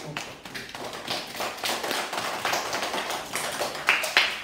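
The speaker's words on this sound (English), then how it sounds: "can we have a round of applause for Quang" A debate audience gives a round of applause for a speaker: sparse, light clapping from a small group, fairly close, carrying on steadily for several seconds.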